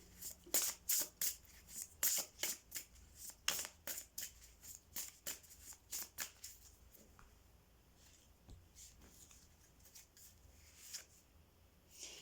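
Cards being shuffled for a reading, a close, quiet run of rhythmic riffling strokes that thins out into softer, scattered rubbing toward the end.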